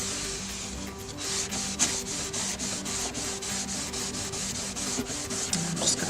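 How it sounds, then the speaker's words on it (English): A cloth rubs wood stain into a board in quick back-and-forth strokes, a soft rhythmic scrubbing swish repeated many times at close range without pause and with no voices. "I'm just going to rub this in."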